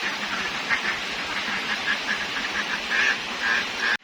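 Farm ducks quack repeatedly in a noisy flock, their calls overlapping close by against a steady background rush.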